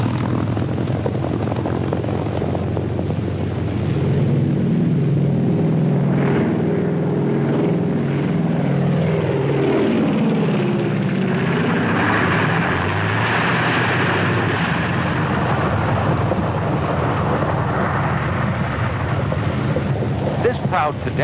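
A 1940s propeller primary trainer aircraft drones loudly and continuously, with its pitch sweeping as it passes and descends to land. Wind rushes across the microphone, and a narrator speaks over the sound.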